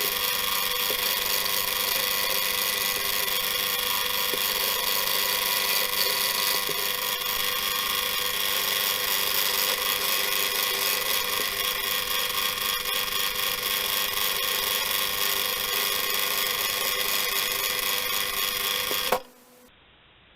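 A machine tool cutting a roller for a filament holder under manual feed, a steady high whine with faint rhythmic chatter that stops abruptly near the end.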